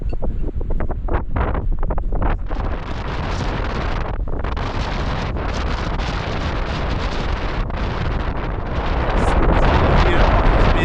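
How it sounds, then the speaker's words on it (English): Strong wind on an exposed mountain summit roars and buffets the microphone, loud and continuous with gusty surges and a few brief lulls, rising toward the end. "Here offers me a little bit of protection from the wind."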